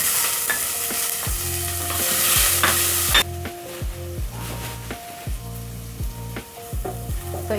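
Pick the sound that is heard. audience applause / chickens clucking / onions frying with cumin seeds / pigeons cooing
onions frying with cumin seeds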